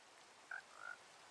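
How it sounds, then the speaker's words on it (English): A frog in the video game Minecraft gives two short, faint croaks a fraction of a second apart, the second slightly longer, against a soft rain-like hiss. "Aw, shit, it's a frog."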